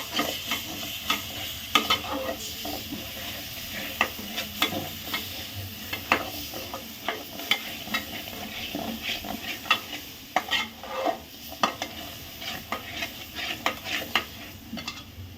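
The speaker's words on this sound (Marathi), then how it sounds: "आपण ह्याच्यात हलवून घेणार आहे मसाला" Shahi paneer masala is stirred and roasted in a pan, a low sizzle under repeated scraping strokes and light clinks of a spatula against the metal, steady and close, no speech.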